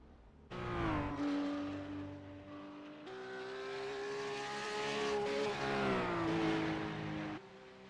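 GT race cars lapping Bathurst in a sim racing game, engines wailing up and down through gear changes as several cars sweep past in overlapping passes, loud and continuous with no talking.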